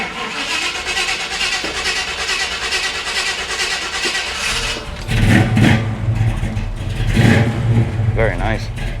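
A restored 1970 Chevy C10 CST pickup with Black Widow exhaust idles with a steady rumble and then revs hard, deep pulsing blasts rising and falling, with voices talking over it.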